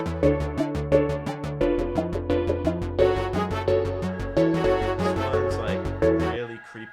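Hollow, resonant pitched tones from a software synth patch imitating struck PVC pipes play a steady, rhythmic run of notes for several seconds, ringing with a bright, tubular quality.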